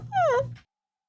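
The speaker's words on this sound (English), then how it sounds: "And right now he's clawing at the door, whimpering." A dog behind a door lets out one short, high whimper that slides downward, close and clear, then falls silent.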